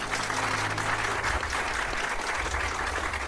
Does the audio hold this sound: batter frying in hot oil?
no